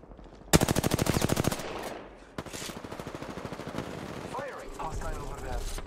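Rapid automatic gunfire bursts from a first-person video game shooter ranked match, loud and close, followed by sparser shots and game effects under a voice.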